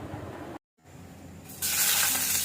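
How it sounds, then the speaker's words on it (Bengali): Potatoes frying in a pan for biryani: a low sizzle that drops out briefly, then swells into a loud, steady hiss close by. "সুন্দর করে আলুটাকে ভেজে নিচ্ছি।"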